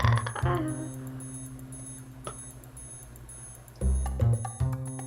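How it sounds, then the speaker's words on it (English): A clock ticks steadily in a staged performance, with a regular run of sharp ticks alongside sustained ringing tones that swell louder near the start and again toward the end. "You guys, I hear ticking."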